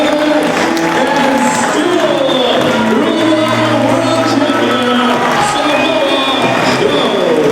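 A wrestling arena crowd cheers and applauds for champion Samoa Joe, a loud sustained roar with whoops and shouts, and a commentator talks over it throughout.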